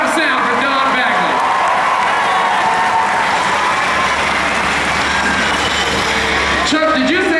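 At a county fair demolition derby, a large crowd claps and cheers for a driver, the applause loud and continuous under an announcer's amplified voice.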